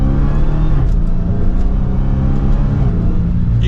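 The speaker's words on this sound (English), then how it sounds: "You can hear that supercharger whine, a little bit of that exhaust." A 2023 Dodge Charger SRT Hellcat Widebody Jailbreak drones loudly and steadily from inside the car on a test drive, its supercharged engine giving a continuous low exhaust rumble with a thin whine layered on top.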